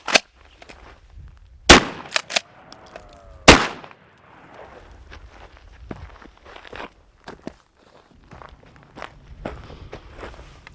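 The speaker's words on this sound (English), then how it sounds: "I want to go back out to the range and try and put a couple more shots onto the pelvic bone" Three loud, sharp blasts from a Benelli SuperNova pump shotgun firing rifled slugs on an outdoor range, the first at the very start and two close together around the second mark, followed by crunching footsteps and light handling noise.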